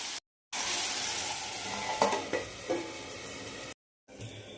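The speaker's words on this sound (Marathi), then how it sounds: "छान असे सर्व मिक्स करून मी हे छान परतते" Paneer masala mixture sautéing in a pan, a steady close sizzle broken by a few scraping stirs, with brief gaps of silence at both ends.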